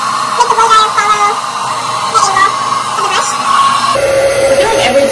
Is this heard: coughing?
no